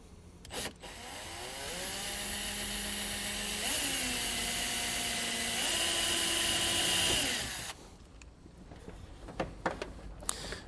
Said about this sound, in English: you can drill right through the center of this